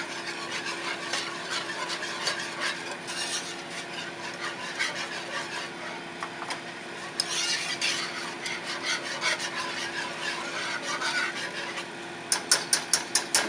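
A white gravy seasoned with nutmeg and black pepper being stirred in a pan, soft continuous rubbing and scraping strokes, fairly quiet, ending in a few quick taps.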